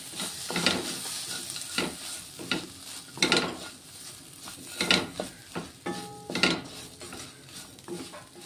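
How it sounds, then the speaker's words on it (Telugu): Ginger garlic paste and turmeric frying in a pan, a low sizzle broken by repeated scraping stirs and metallic clinks of a spoon on the pan every second or so, close and clear, no voices. "ఇది ఇంకొక 2 నిమిషాలు ఫ్రై చేసుకుందామండి. అల్లం వెల్లుల్లి పేస్ట్ పచ్చివాసన పోయేంత వరకు."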